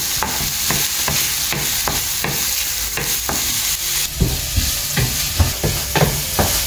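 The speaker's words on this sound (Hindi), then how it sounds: "ऑनियन्स न्ही आतां सोते जावंक येयलाय" Onions sauté in a pan with a constant sizzle, while a utensil stirs and scrapes in regular, fairly loud strokes, quickening toward the end, with no talking.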